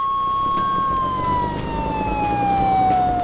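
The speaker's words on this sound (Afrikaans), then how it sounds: "Dit is 'n sirene, want ons is nou by die brandweerstasie." A loud fire station siren wails continuously, its tone slowly sliding downward over a constant roar of background noise.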